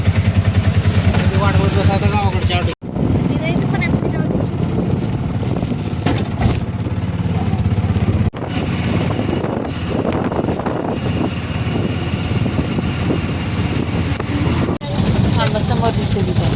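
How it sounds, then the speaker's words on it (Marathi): An auto rickshaw rides along a road toward a village, its engine droning steadily under strong wind buffeting throughout, with a few brief words spoken over the noise. "आता आम्हाला रिक्षा भेटली आणि चाललोय घरी रिक्षा."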